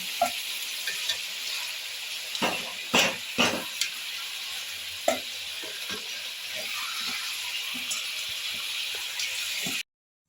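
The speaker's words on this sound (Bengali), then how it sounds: "সব চিকেনগুলো একটু ফ্রাই হয়ে গেছে" Chicken pieces frying in hot oil for a chicken curry, a continuous close sizzle with several sharp clatters and scrapes from stirring, then cutting off abruptly near the end.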